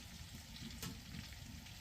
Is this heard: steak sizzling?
yes